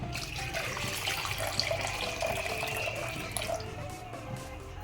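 Water poured into a cooking pot of drumsticks for a tamarind dish, a continuous splashing, gurgling stream heard close and alone for several seconds.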